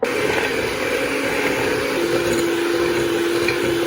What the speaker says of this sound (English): So I've just got my butter and sugar in the bowl and I'm going to whisk them together